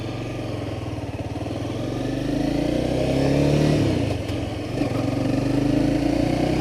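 A 2015 Honda CBR 300R motorcycle engine runs steadily at a nearby idle, swelling briefly as it revs and then settling back, with no talking.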